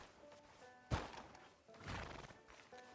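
Horse in the Red Dead Redemption 2 video game, a loud whinny near one second followed by a second neigh and clip-clop hooves, over game ambience.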